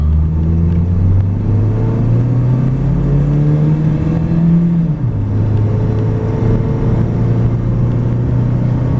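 A 2004 Toyota Tacoma PreRunner pickup's loud engine revs and climbs in pitch under hard acceleration uphill from 0 to 60, drops briefly at a gear change, then keeps pulling with a steady rumble.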